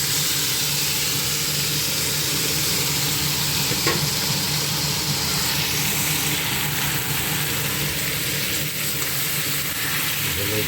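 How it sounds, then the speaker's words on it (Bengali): Meat poured into a hot pan of fried tomato and onion sets off a loud, continuous sizzle that holds steady throughout without a break. "এখন মাংসগুলো ঢেলে দেবো।"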